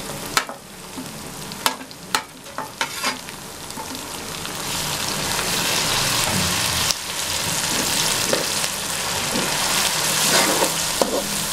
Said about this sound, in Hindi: और अच्छे तरीके से फ्राई करेंगे।